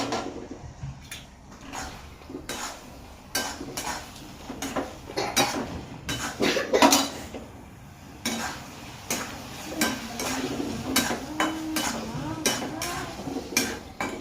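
Stirring a javla (dried shrimp) dish with raw mango in a pan: irregular scraping and clinking of a utensil against the metal, with scattered louder knocks, over a soft background hiss.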